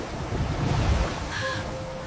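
Ocean waves and surf roll in with a low, rushing roar and wind-like noise, steady and fairly loud with no talking.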